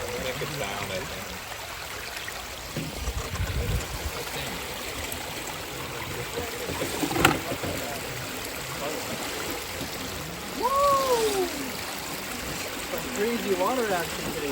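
An Axial Wraith 2.2 RC truck churns through a stream, with continuous rushing, trickling water throughout, a few brief voice-like tones, and no clear motor whine.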